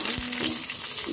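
Garlic paste hits onions browning in a hot pan for a kala bhuna and gives a loud, dense sizzle. A few stirring scrapes sound close up under it.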